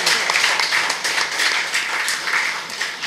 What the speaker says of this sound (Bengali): হাততালিটা যেন স্বতঃস্ফূর্তভাবে হয়